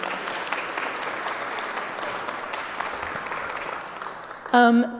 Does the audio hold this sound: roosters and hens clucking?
no